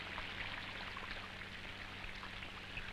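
Rain falls steadily at night, a faint, continuous patter of drops over a low background hum, with no voices.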